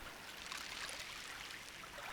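A gentle stream flows in a soft, continuous watery hiss and trickle, steady and fairly quiet throughout with no voices.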